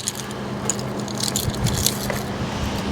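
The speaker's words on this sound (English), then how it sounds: "Look at that, you've wrapped all the keys up as well, Kev." Keys jangling and clinking near a motorhome, a steady light metallic rattle with brief scrapes, close and continuous for a few seconds, with no talking.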